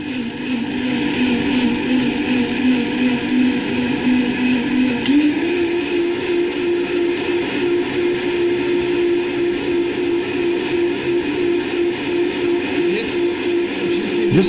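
A powerful blender-like extractor motor whirs steadily and loudly, holding a constant whine that rises slightly in pitch midway as it runs on alone throughout while blending cocoa powder.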